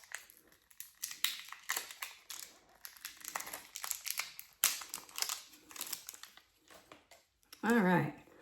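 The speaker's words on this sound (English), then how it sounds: "once I get this plastic off of here" Plastic wrapping is peeled and crinkled off a Laura Geller makeup kit in close, irregular bursts of crackling, and a voice speaks briefly near the end.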